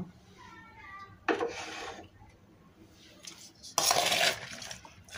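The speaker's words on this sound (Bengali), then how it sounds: "আমি এই যে হাতা দিয়ে মিলে দিচ্ছি, ভালো করে মিশিয়ে দিচ্ছি" A ladle scrapes and clanks inside a pot while spiced vegetables with ground spice paste, a bay leaf and mustard oil are mixed, giving two loud bursts of metallic scraping between quieter stretches.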